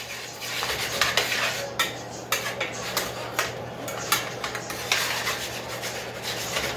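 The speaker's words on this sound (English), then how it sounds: "Now you're going to fry that up with your meat." Taco meat with seasoning fries in a pan, a steady sizzle under repeated scraping and clinking of a utensil against the pan, with brief pauses between strokes.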